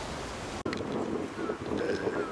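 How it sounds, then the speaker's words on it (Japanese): Strong wind on a golf course buffets the microphone in a continuous loud roar, gusting unevenly with a brief sharp dropout near the start. "かなり風が吹いています。"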